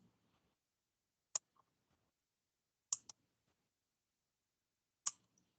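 Three crisp computer mouse clicks spaced a second or two apart, made while dropping pins on a GIS web map to outline an area. Each click is sharp and close, in an otherwise quiet room with no talking.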